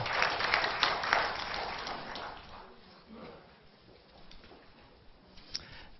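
An audience at an education research briefing in Korea gives applause as a speaker takes the stage; the clapping is fairly loud at first, then thins and fades within a few seconds into quiet room sound.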